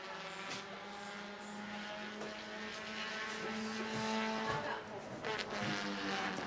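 A Bomber A class race car roars through its final qualifying lap at New Smyrna, its engine drone loud and continuous and swelling slightly near the end, with a commentator talking over it throughout.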